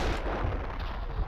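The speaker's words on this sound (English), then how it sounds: "Seems like a perfect time to use a grenade." A grenade blast in the video game Max Payne 2, a loud, dense burst of gunfire-like explosion noise filling the whole short moment.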